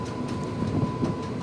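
Somnath–Gandhinagar Intercity Express being washed in a railway shed, heard as a steady, moderately loud hissing wash noise throughout with faint rumbling underneath.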